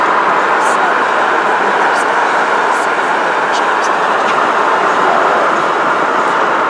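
An empty BNSF freight train rumbles past close by in a steady, loud roar of rolling wheels and rushing noise.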